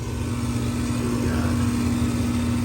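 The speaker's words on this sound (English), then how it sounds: "got user fan motor running" Fan motor of a Carrier gas furnace running with a steady, low, even hum and a constant tonal drone, nearby and moderately quiet, with no talking over it.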